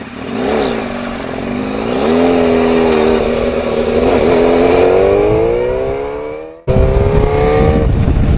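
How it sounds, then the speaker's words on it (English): A Yamaha FZR 600 motorcycle with a loud exhaust revs up and holds a rising drone, cuts briefly, then roars again at a higher pitch, close and powerful. "So loud. I love it. I love a loud exhaust."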